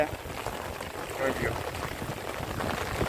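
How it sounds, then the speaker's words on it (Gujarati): Heavy rain pours steadily in Mandvi after falling continuously for 24 hours while a river floods, a dense unbroken wash of water close by with a voice murmuring beneath it. "ચોવીસ કલાકથી વરસાદ ચાલુ છે"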